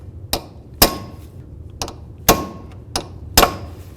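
Sharp metallic hammer strikes peening an axle nut into the CV axle shaft on a 1998-2002 Honda Accord driver's side, five distinct blows at irregular intervals, close and loud with ringing decay.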